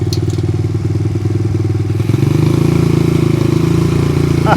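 A 1981 Honda CM200T TwinStar motorcycle engine runs close by with a steady, loud, low throbbing idle that picks up slightly and settles into a fuller, even putter partway through.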